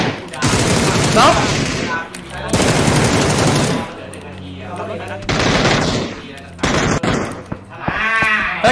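Repeated bursts of rapid automatic gunfire in PUBG, loud and close, come in several volleys separated by short gaps, with quieter stretches and a faint voice in between.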